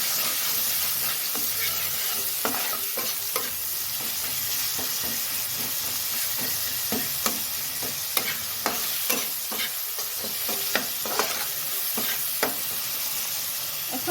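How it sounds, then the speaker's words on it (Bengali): Chital fish bones are stirred with salt and turmeric in a sizzling pan: a continuous frying hiss with repeated close scrapes and taps of the spatula, growing more rhythmic toward the end. "হলুদ গুঁড়ো দিয়ে দিব দিয়ে ভালো করে নেড়ে নেব"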